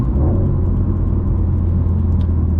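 Subaru running flex fuel accelerates under light to moderate throttle, heard from inside the car as a steady low rumble and whir with a smooth, even engine tone throughout.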